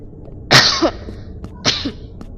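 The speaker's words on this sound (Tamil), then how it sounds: "தொண்டையில் இருமல்" Two loud, harsh coughs, a second or so apart, close by with little else around them.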